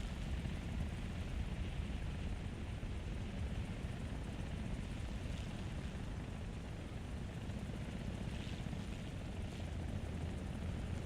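AH-1Z Viper attack helicopter in War Thunder, a continuous low rumbling rotor and engine drone, steady and dense for the whole stretch without talk.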